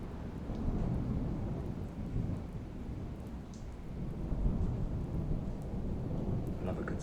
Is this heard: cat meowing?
no